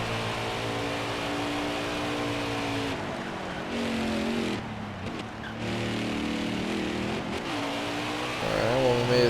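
Race car engine droning through a qualifying lap in NASCAR Heat 5, a steady harmonic whine shifting pitch with gear changes and throttle, loud and continuous with brief dips, a speaking voice faintly underneath.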